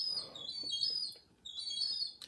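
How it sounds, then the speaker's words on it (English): A baby seagull calls repeatedly with thin, high piping cries in two clear bursts, faint and slightly distant, with the mother gull nearby. "this is what we call seagull time of the year, baby seagull."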